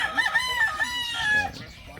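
Chickens crowing and clucking close by, with a rooster's harmonic calls layered over steady background farmyard clucks, no talking.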